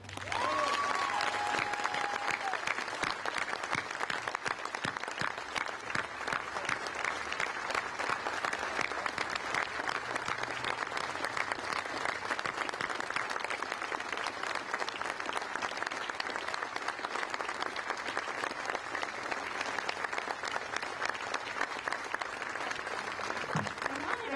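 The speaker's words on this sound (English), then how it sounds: "Please give an enormous round of applause" A steady round of applause from an audience at a building ribbon cutting continues evenly for over twenty seconds, dense and moderately distant, with a brief voice or whistle near the start.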